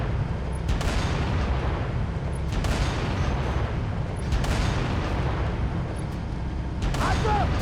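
Gunfire in Halo: Reach on Xbox 360, a Legendary-difficulty campaign fight against jackals, cracks out in sharp, evenly spaced shots over a constant loud battle rumble.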